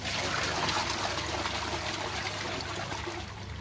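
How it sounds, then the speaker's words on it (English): A toilet flushing after being unblocked and cleaned, giving a steady, close rush of trickling water that carries on for several seconds and eases slightly toward the end, with no voices. "We're going to give it one more flush again just to be on the safe side."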